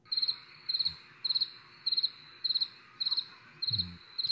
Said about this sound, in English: You better put some cricket sounds in there.